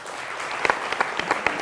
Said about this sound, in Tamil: எதுக்கு வந்தோம் ஏன் வந்தோன்னு தெரியாமல் கைத்தட்டியாச்சு